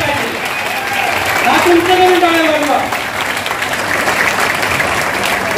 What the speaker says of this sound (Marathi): एकदा जोरदार टाळ्या आपण या ठिकाणी वाजवल्या पाहिजे